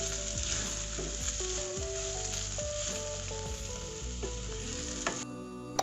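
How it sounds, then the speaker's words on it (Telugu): Mushroom pepper fry with ground black pepper sizzles steadily in a pan, a dense close crackle with stirring knocks and scrapes running through, no speech. "ఇప్పుడు లాస్ట్లో కొంచెం మిరియాల పొడి వేసుకుని ఒక 5 నిమిషాలు వేయించుకుని పక్కకు తీసుకుంటే మష్రూమ్ పెప్పర్ ఫ్రై రెడీ అయిపోయినట్టు."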